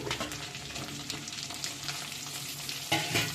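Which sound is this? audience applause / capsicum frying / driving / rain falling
capsicum frying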